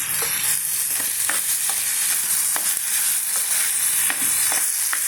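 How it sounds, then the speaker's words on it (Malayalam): Spinach sautéed with salt in a pan gives a steady, loud oil sizzle throughout, broken by short scraping strokes of a stirring spoon. "ഇതിൻ്റെ കൂടെ ചിലപ്പോൾ ഉപ്പും കൂടെ ചേർത്ത് നമുക്ക് വഴറ്റിക്കൊടുക്കാം"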